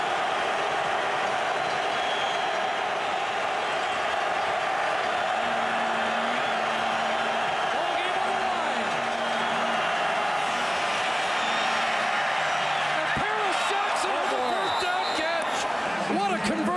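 Sustained, thunderous roar of a packed Saskatchewan Roughriders football crowd during a home game against the BC Lions, a continuous dense din with horn-like tones and whistles rising near the end.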